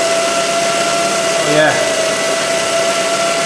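A Ford Focus 1.8 petrol engine idles with a steady whine and tonal squeal from a faulty alternator, heard up close and continuous, with a brief spoken word over it.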